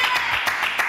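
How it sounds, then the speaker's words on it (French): Applause from a live television studio audience, a dense broadband patter of many hands filling the short moment at a steady, moderately loud level with no gaps. "qu'on applaudit très très fort"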